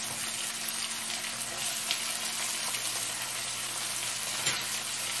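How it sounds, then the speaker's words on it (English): Onions sizzle in the hot pot of a Ninja Foodi while Punjabi-style kala chana is being cooked. A steady, close frying hiss carries through with faint stirring clatter and no speech. "Now that that's done, now we add the onions."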